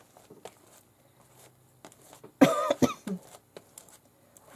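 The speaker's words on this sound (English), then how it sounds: "I'm still coughing and wheezing from the trip" A single close, harsh cough with a throat-clearing rasp from someone with asthma breaks a quiet room, amid soft rustling and handling noises.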